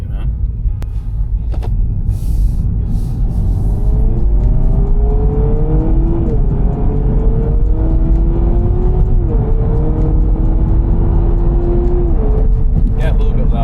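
Need for Speed video game engine sound of a Honda Prelude as the car accelerates, with rising revs through several gear shifts over a loud steady rumble.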